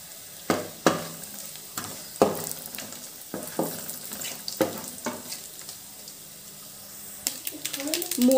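Mustard seeds and cumin hit hot oil for a tempering in a bottle gourd dal, giving scattered sharp pops and crackles over a low sizzle, with a busier burst of spattering near the end.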